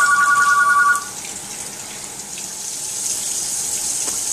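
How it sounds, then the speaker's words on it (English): Tap water running over brown rice being rinsed for cooking, a steady close splash and trickle after a short electronic beep at the start. "Rice, quinoa, any kind of grain you're about to cook, I highly suggest washing it."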